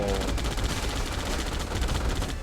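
Rapid, dense automatic gunfire rattles continuously and loudly from the Gladian GI during a Free Fire battle-royale match, with shots overlapping into a sustained stream of bursts.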